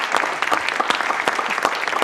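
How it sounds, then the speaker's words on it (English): A short burst of lively audience applause, dense and fairly close, with sharp individual claps standing out across two seconds and no talking. "That deserves a round of applause."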